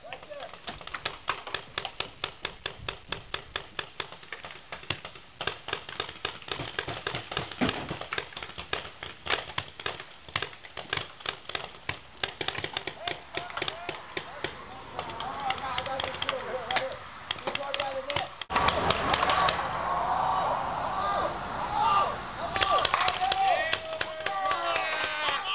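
Paintball markers fire in rapid, snapping bursts during a birthday paintball game, dense popping shots sounding near and far with players shouting and talking over them throughout.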